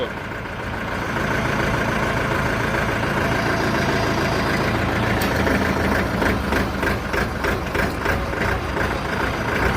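A 2023 Shifeng 404 tractor's diesel engine runs steadily while the hitch lift is tested, a loud continuous low rumble with a faint rhythmic pulsing toward the end.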